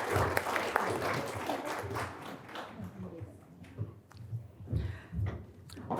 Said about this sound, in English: let's give our 30-year recipients a round of applause